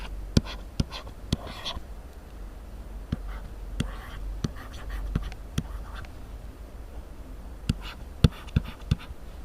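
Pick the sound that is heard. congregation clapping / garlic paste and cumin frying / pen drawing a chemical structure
pen drawing a chemical structure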